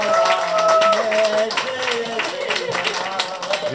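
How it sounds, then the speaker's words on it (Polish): A small gathering claps for the chef at a food event, light scattered clapping mixed with overlapping talk and background music. "Brawa dla szefa kuchni."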